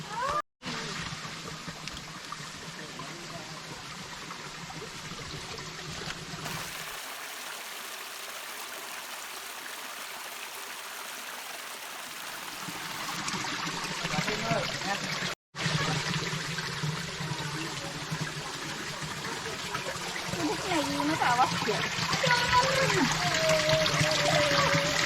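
A stream of water runs along a canal in a forest, giving a steady close rushing flow that drops out midway and then returns, with faint background sounds and no speech.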